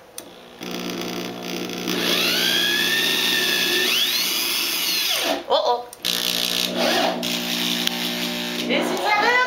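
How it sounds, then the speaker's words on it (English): A power drill whirs loudly and steadily while blinds are being installed at home, its pitch rising and falling as it bites, stopping abruptly mid-way, then starting again in short bursts, with a brief spoken exclamation. "And drill."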